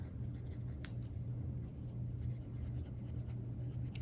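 Benu Talisman fountain pen with a fine Schmidt nib writing on MD paper, soft close scratching strokes heard faintly over a steady low background hum.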